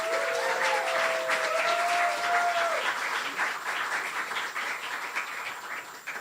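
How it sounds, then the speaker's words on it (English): Sustained applause for poet Genesis Perez at a night of poetry, jazz and songwriting, a steady clapping crowd that holds strong before gradually thinning and softening toward the end. "let's give a round of applause to Genesis Perez"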